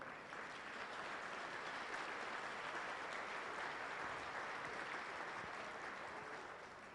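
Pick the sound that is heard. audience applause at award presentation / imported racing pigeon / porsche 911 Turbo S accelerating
audience applause at award presentation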